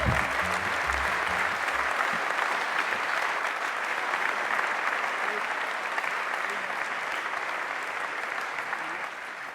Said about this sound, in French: Je vous demande d'applaudir à tout rompre Saint-Lunaire